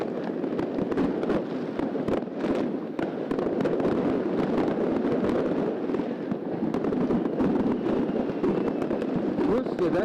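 New Year's night fireworks in Yakutsk burst from every side, a dense, continuous barrage of cracks and booms near and far with no pauses, while a voice talks faintly underneath.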